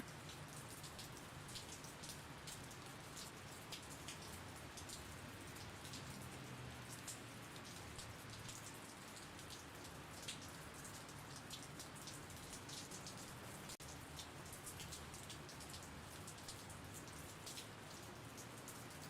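Steady rain patters on a surface for the whole stretch, an even, dense hiss with scattered drops, faint and continuous, with no voices.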